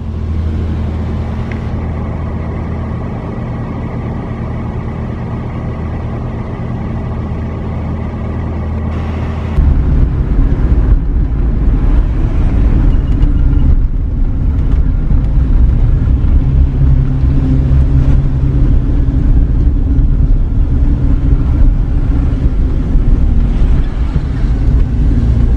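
A 1972 Volvo 164 E on its first drive after revival makes a steady engine drone and road rumble from inside the cabin. The pitch shifts and the noise gets louder about a third of the way in, as if the car accelerates or changes gear.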